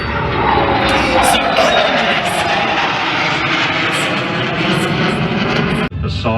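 Military aircraft of the Royal Australian Air Force pass overhead in a centenary flypast, a loud sustained broadband engine roar filling the whole stretch, with voices faintly underneath, cutting off abruptly near the end.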